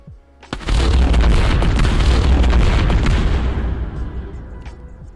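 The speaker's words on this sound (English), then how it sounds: "the chain explosion, wherever you're looking is where the blast will occur" A chain explosion ability blast in the video game Ignition Prime: a sudden loud boom that rolls into a long, dense rumble, slowly fading over several seconds with no voices.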